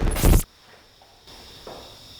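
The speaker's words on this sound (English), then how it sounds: "That literally sounded like a footstep right in this hallway." Single footstep in the hallway of a nursing home at night: a loud, close thump-like burst opens, then quiet room tone with faint, distant muffled knocks.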